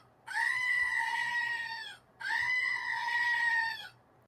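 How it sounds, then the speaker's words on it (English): A goat gives two loud, long, strained bleats, each lasting about two seconds with a short pause between, heard close and alone. "I apologize if the goat woke you up"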